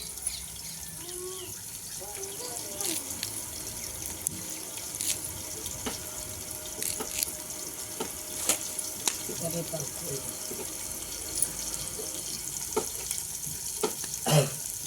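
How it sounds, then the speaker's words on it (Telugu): Onions frying in oil with a little salt in a hot pot for chicken curry give off a steady, close sizzling hiss, broken by scattered clicks and scrapes of stirring, with faint voices in the background. "డేక్షా వేడి అయిన తర్వాత అందులో ఒక ఆయిల్ వేసి ఉల్లిపాయ వేసి కొద్దిగా సాల్ట్ వేస్తూ ఉంది"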